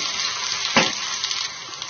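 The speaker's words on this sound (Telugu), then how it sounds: "అల్లం వెల్లుల్లి పచ్చివాసన పోయేలాగా కలుపుకోవాలి." Ginger garlic paste fries in a pan with a continuous loud sizzle, and a spoon scrapes through it once near the middle while stirring goes on under the hiss.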